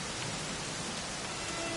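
Steady, dense rain in Dragon Quest XI S, a soft hiss of falling water spread evenly across the short stretch with no breaks or voices.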